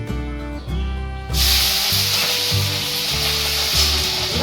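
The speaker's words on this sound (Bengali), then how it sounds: "আগে থেকে যে শাকগুলো ধুয়ে রেখেছি, এবার এর মধ্যে দিয়ে দেবো। কাঁচা লঙ্কাগুলো দিয়ে দিচ্ছি।" Green chilies and washed greens for a Bengali stalk-greens dish hit hot oil, a quiet hum giving way to a sudden loud, close, sustained sizzle and hiss under a faint background tone, with no talking.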